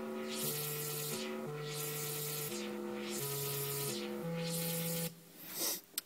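Synth bass line layered with a white-noise hiss across the top, stepping through sustained notes in a repeating pattern while the hiss swells and fades rhythmically, then cutting off near the end.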